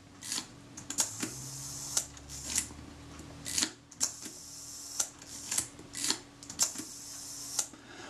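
The shutter of an Agfa Karat 36 camera is fired again and again, producing about a dozen crisp, close mechanical clicks spaced roughly half a second to a second apart against a quiet background.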